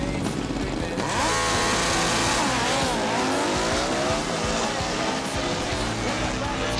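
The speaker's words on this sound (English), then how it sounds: "he's up against Shane Davis on yet another Harley Destroyer" Drag racing motorcycles, a Kawasaki ZX10 and a Harley Destroyer, launching at a drag strip with loud screaming engines that rise and fall through shifts, close and dominant over crowd noise.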